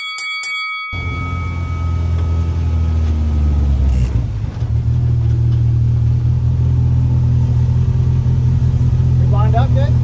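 Engines of a Rivian, a Polaris RZR and a Ford Raptor idling and revving at a desert start line, a loud steady rumble filling nearly the whole stretch after a brief bell-like ring at the start.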